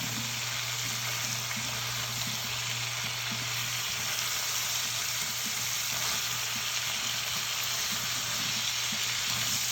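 Pot roast ingredients sizzling in a pot while being stirred, a loud continuous frying hiss with a steady low hum beneath and faint stirring movements.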